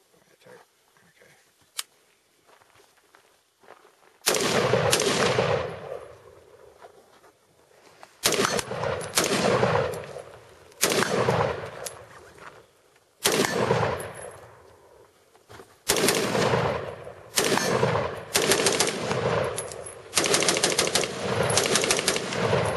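Rifle fire at night from an LMT 10.5-inch barrel with a Noveske crank flash hider, loud rapid strings of shots in several bursts separated by short pauses, with echoing reports.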